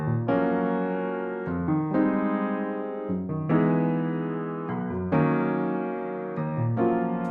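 Upright piano keys from Omnisphere, made old and dirty with the RC20 plugin, play a slow sustained chord progression, close, steady and alone.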